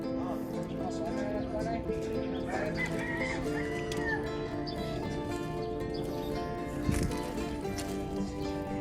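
Chickens cluck steadily in a free-range area, with a rooster crowing partway through, alongside faint voices and general yard noise.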